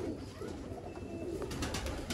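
A Teddy pigeon coos close by, low soft throaty calls over a noisy, crowded background, brief and steady with no speech heard.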